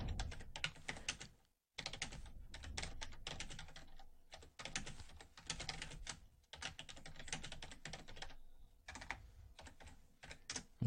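Steady typing on a computer keyboard while writing a code comment, close and fairly quiet, with rapid key clicks in bursts separated by short pauses and no talking.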